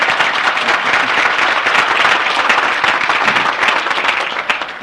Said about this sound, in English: you can applaud because he deserves it.